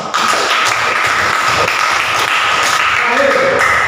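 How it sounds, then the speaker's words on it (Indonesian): Schoolchildren in a classroom clap together for a few seconds, a close, bright patter with scattered taps and a faint voice underneath near the end. "tepuk tangan untuk kalian semua"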